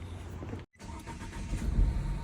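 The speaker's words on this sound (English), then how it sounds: "This ignition coil pack I leave it without connected to the connector, and I'm going to start the car again." A Nissan Qashqai with one ignition coil pack disconnected cranks and starts up, a near, rough engine rumble that briefly cuts out and then swells into a running idle.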